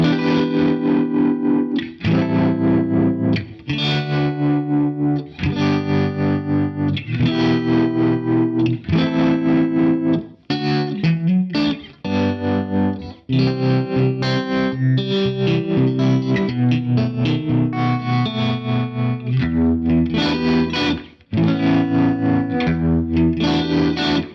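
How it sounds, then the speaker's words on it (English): An electric guitar plays chords through a tremolo effect, its volume pulsing rhythmically, loud and continuous with short pauses between phrases. "The first is a tremolo."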